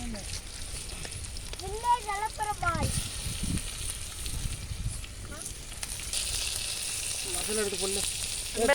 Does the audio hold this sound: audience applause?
no